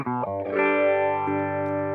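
Electric guitar run through a Line 6 Helix effects unit rings out in loud, sustained distorted chords with rich, shimmering harmonics, heard close and alone.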